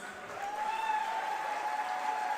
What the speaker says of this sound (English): let's have the loudest round of applause